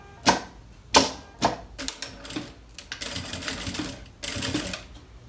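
A sewing machine stitches a zipper onto a double toiletry case, quick rattling bursts of needle action starting and stopping, then a longer steady run, close and clear.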